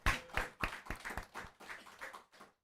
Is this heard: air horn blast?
no